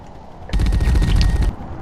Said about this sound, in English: Switch to shotgun, use shotgun shells.